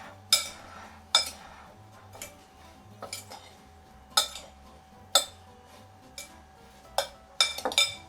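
Sugar gets mixed into a bowl of filling with a utensil that clinks sharply against the bowl at irregular intervals, close and distinct over a quiet background.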